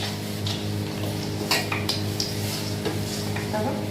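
Duck curry being stirred in a pan with oil, with scraping and light clattering of a spoon against the pan and a soft sizzle running steadily underneath; no talking.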